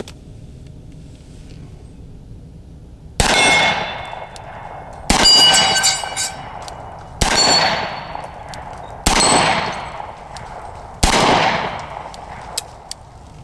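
A Smith and Wesson 460 XVR magnum revolver fires five loud, sharp shots at a steady pace of about one every two seconds, each blast ringing out with a metallic clang and a decaying echo.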